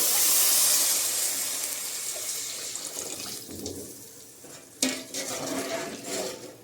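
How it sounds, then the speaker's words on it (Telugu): Water poured into a cooking pot of tomatoes and chillies, a loud rushing pour that tapers off, followed by a sharp clank of a vessel and softer liquid sloshing and clinks, close with no talk. "ఇప్పుడు వాటర్ కూడా యాడ్ చేసేస్తున్నాను"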